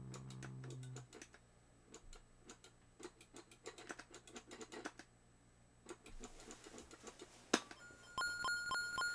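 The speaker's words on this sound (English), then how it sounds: "I was just like typing stuff in." Fingers type on a computer keyboard in quick irregular bursts of soft clicks, close and quiet with short pauses, and a few electronic blips and tones from an Atari 2600 word-guessing game near the end.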